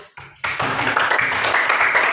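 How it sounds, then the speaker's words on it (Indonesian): Classroom applause for a student group after its presentation: dense, steady clapping from many pupils bursts in after a brief near-silence and keeps going loud to the end. "tepuk tangan buat kelompok 1"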